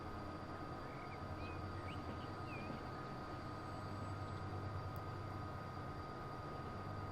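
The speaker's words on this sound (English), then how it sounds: "Yeah, lots of trains here." A low continuous rumble of trains running in Transport Fever 2, a steady droning engine and rail tone with a faint high whine, even and unbroken throughout, with no voices.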